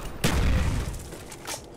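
AK-74 gunfire in Black Ops 1, a loud burst of rifle shots followed by a quieter second report, booming and close with no talk over it.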